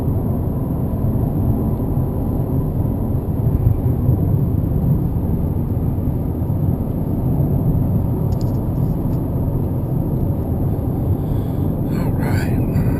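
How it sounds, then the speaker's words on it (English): Inside a 2017 Nissan Rogue SV cruising on worn, beaten-down I-75 asphalt, a constant loud broadband road roar and rumble fills the cabin with no pauses. "You can probably hear my complaint about the road noise a little bit right now."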